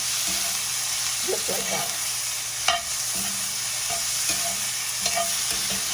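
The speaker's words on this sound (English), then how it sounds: "I'm going to add all my spices in there, and now I'm going to stir fry it" Okra with spices stir-fried in a pan, with a steady sizzle under repeated scraping stirs of a spoon and a short spoken remark over it.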